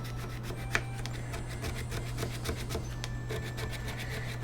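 Brisk scrubbing between the frets of an acoustic steel-string guitar fretboard to loosen built-up gunk: close, steady back-and-forth rubbing strokes over a low constant hum, with no talk.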